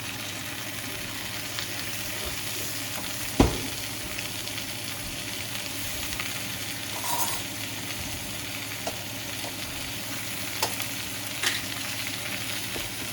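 Steady crackling sizzle of potatoes and onion frying in a pan, continuous and close, with an occasional clink or scrape of stirring.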